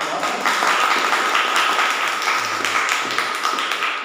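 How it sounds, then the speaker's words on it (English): Audience at a Toastmasters club meeting applauding a guest: dense, steady clapping from a small room of people, sustained and fairly loud throughout without pause. "I request everybody to give a big round of applause."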